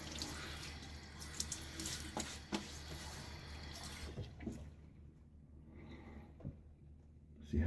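Water runs from a tap into a bathroom sink during a wet shave, a steady close rush that splashes and drips, then the flow cuts off into quieter trickles before a louder knock at the end.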